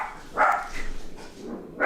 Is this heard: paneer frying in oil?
no